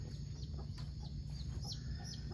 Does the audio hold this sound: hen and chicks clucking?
yes